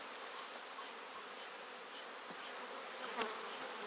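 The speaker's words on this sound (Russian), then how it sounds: "Пчелок стряхнем," Honey bees buzz in a dense, steady drone, many insects humming together close by as they are shaken off a hive frame during honey harvest, with a brief sharper sound near the end.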